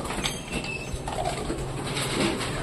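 Soft coos of Lakka pigeons murmur through a steady, noisy background hum, several birds calling faintly and irregularly without any speech.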